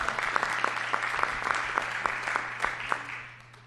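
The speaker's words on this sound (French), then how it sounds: "Est-ce qu'on peut l'applaudir, l'accueillir ensemble?" An audience claps to welcome a speaker at a French-language testimonial evening, a steady dense applause with individual claps standing out, fading toward the end.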